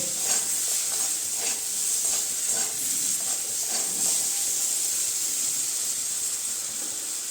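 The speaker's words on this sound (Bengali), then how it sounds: "এখন বেগুনটাকেও আমি ভেজে নিব ভালো করে।" Brinjal frying in a pan for a Bengali fish and vegetable curry, a steady loud hissing sizzle that holds for the whole stretch with faint crackles.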